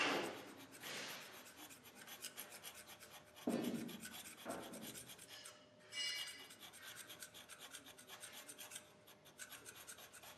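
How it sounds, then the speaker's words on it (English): Hand scraping of a grinding machine's metal surface along print marks, a series of close, crisp rasping strokes in irregular bursts with short pauses between them, heard alone. "scrape along the mark, make another print, scrape along the mark"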